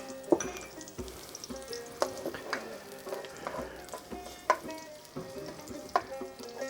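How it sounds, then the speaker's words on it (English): Close frying sizzle of onions in oil, with crackling pops and occasional stirring clinks over a steady hiss of hot oil. "ooh, sizzle."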